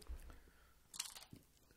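A crunchy rolled taco is bitten, one crisp close crunch followed by brief chewing, quiet overall.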